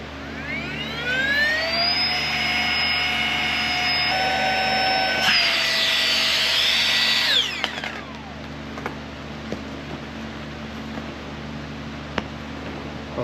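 An electric air pump inflates the air mattress of a Naturnest Polaris Lite rooftop tent. It whines loud and steady for about six seconds, rises in pitch, then cuts off, leaving quiet background hum and a few small clicks.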